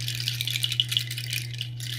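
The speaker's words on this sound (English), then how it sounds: "my nut rattle, which I love so much, and that's going to make a little noise" A nut rattle is shaken lightly and continuously, giving a dry, clattering patter close by over a steady low hum, with a few brighter accents and a brief pause near the end.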